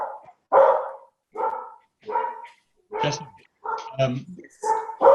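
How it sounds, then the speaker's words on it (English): Several dogs bark in short, loud bursts, about seven or eight barks spread evenly across the stretch, close by in a home setting, with a person speaking briefly between them. "can you hear my dogs in the background?"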